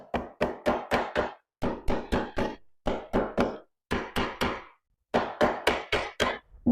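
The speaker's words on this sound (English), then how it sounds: "I'm just going to hammer that back in." Repeated hammer blows drive a loose leg back into an old auction-leftover wooden furniture piece, falling in quick bursts of three to five sharp knocks with brief pauses between groups, close and loud with no talk.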